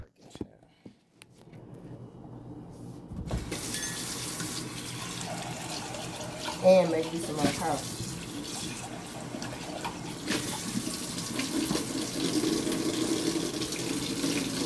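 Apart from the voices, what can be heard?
hot water running from a bathroom tap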